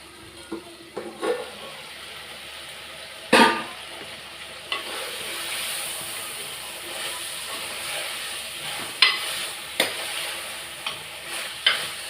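Bitter gourd stirred and fried in oil gives a continuous hissing sizzle, broken by sharp scraping strokes of a spoon against the pan at irregular intervals, heard close with no talking.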